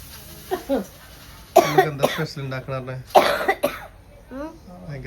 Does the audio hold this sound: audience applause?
no